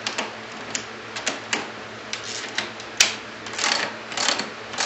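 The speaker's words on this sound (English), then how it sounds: "wrenching the ratchet makes it go quick" A ratchet wrench clicks quickly while tightening hardware on an RMK 600 snowmobile during a scratcher install, giving a dense, close run of sharp ticking bursts with brief pauses.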